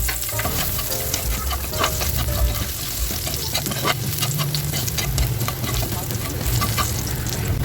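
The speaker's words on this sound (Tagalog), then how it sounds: "Nagbawas lang tayo ng mantika at ilalagay na rin natin yung ating bawang." Garlic hits hot frying oil left over from frying carrots and potatoes, giving a steady, close sizzle with scraping stir strokes throughout.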